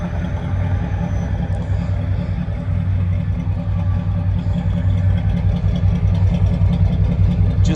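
A 1986 Chevrolet Silverado pickup with a 350 Vortech engine runs steadily nearby, a loud, even low rumble with a constant throb and no clear revving.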